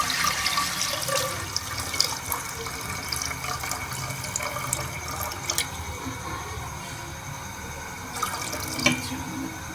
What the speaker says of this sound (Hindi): हम इसके अंदर दूध डाल लेंगे